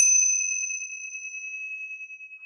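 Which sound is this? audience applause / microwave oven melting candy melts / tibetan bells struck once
tibetan bells struck once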